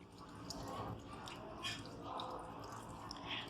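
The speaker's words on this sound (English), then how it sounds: "Now pour the water in the radiator." Water poured into the radiator of a Suzuki Cultus car, a steady close splashing and gurgling wash that runs continuously without a break.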